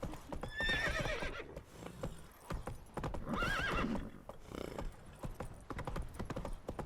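Horses whinnying twice amid clip-clopping hooves in The Witcher 3: Wild Hunt, two loud neighs over a continuous trot with faint background sound.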